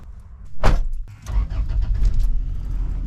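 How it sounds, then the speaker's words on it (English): A Japanese-market Toyota Land Cruiser Prado is switched on: a sharp click and clunk, then a low steady engine rumble with some rattling, close and loud, no talking. "car is on"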